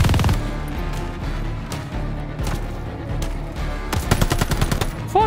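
Rapid bursts of automatic gunfire and pistol shots from the Call of Duty Vanguard campaign, loud and dense throughout, with a sharper volley of close shots near the end over a constant battle din.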